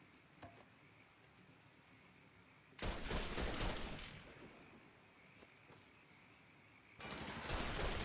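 Automatic gunfire in the Mafia 3 video game comes in two loud rapid bursts, one lasting about a second and a second starting near the end, against a quiet, faint background.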